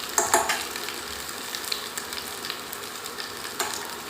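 Spices frying in hot oil with cut potatoes in a village kitchen, a steady soft sizzle under occasional clinks and stirring scrapes, close and fairly quiet, no talking.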